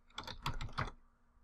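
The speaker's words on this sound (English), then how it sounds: "I'll type in something." A short run of quick keystrokes on a computer keyboard, about five close, crisp taps in rapid succession, then quiet.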